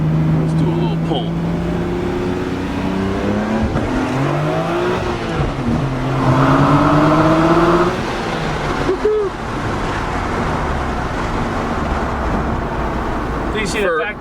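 A stock Nissan Skyline GT-R with factory turbos pulls hard from inside the cabin, engine note rising steadily through gears with brief shift breaks, loud and close, with occasional voices from occupants.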